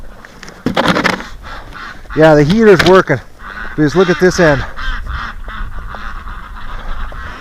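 Domestic ducks and geese in a snowy winter pen on a bitterly cold, frozen night give a few loud honking, quacking bursts in the middle, mixed in with a person talking close by.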